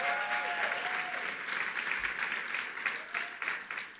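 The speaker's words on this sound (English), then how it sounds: "Let's give him a round of applause." A gala audience gives sustained applause at a Human Rights Campaign awards dinner in New York, a steady wash of many hands clapping in a large room, slightly distant and tapering at the end.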